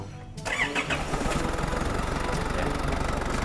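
An Isuzu D-Max diesel that starts hard and idles roughly cranks briefly, catches, and settles into a loud steady clattering idle, heard close with a voice briefly over it.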